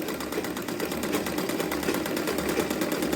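A sewing machine stitches along the top edge of a tulip sleeve, producing a fast, even, unbroken mechanical whir up close, with no voices.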